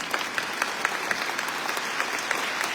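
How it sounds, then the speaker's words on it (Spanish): A church congregation claps during Mass after the Gospel reading, a steady mid-distance patter of many hands with scattered sharper claps standing out, no talk over it. "Démosle un fuerte aplauso a la palabra de Dios"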